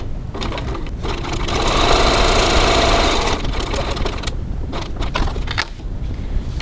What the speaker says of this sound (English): now I'm just going to stitch this down 3 millimeters 1/8 of an inch from the edge